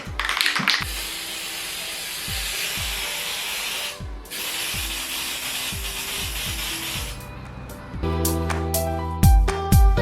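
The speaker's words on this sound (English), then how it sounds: "I'm going to spray paint these with this Dulux chalky finish spray paint in this creamy color" Dulux chalky finish spray paint in a creamy colour hisses from an aerosol can in long, steady bursts with short pauses between them, close and loud and with no talking.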